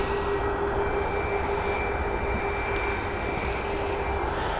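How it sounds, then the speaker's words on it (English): Ryanair Boeing 737 MAX jet at Dublin Airport, a steady, continuous engine roar that holds at an even level throughout, with no voices over it. "It's a Boeing 737 MAX, first registered in March of this year, so one of the newest of the 737 MAX on the Ryanair fleet."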